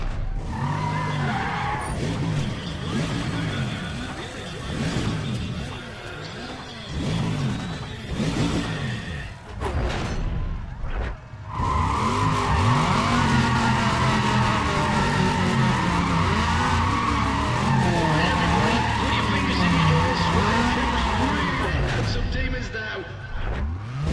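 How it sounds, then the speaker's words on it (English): Car engines revving at a drag race launch in a racing video game, with loud rising and falling revs, tire squeal and skidding, then a sustained roar as the cars pull away, with someone talking over it. "Just listen to those engines. There they go."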